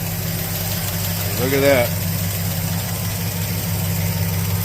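A 1968 GTO engine, revived after sitting for 50 years, idles steadily with a low, even rumble and a clattering lifter, while a voice speaks briefly over it.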